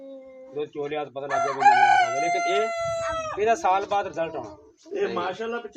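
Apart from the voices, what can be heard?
roosters crowing on a goat farm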